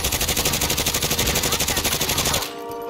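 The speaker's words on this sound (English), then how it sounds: "Oh, I think it's sniping fire." Rapid, dense sniper gunfire in a video game battle, loud and continuous for over two seconds with sharp, repetitive cracks before it abruptly cuts off.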